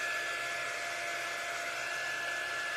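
A hair dryer drying paint on a craft project whirs in one steady, close, unbroken blow, with no talking.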